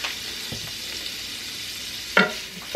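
Vegetables and kielbasa sausage stir fry together in a pan, a close steady sizzle with a couple of sharper clatters from the utensil stirring, without any speech.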